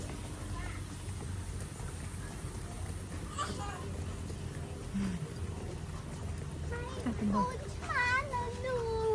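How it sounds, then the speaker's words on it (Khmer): A kitten meows at a zoo in Siem Reap, a few short rising cries near the end over outdoor background noise, with people talking nearby. "កូនឆ្មា"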